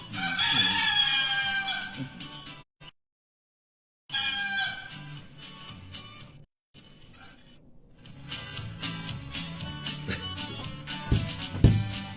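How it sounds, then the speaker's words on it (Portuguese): A rooster crow played as a sound effect during a morning broadcast, loud repeated crowing and clucking bursts separated by brief dead silences, heard alone without speech. "Solta o galo aí pra Tânia."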